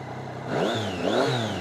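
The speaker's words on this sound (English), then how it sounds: "still got that lovely Triumph whistly whiny kind of sound" Triumph Daytona 675R sport motorcycle engine revving close by, rising and falling twice with a distinct whistly, whiny high-pitched note riding over the rasp of the exhaust.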